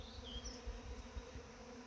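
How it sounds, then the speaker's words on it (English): A swarm of honey bees buzzes steadily outdoors in sunny, warm weather, a dense droning hum with no talk over it. "swarming bees are extremely non-aggressive"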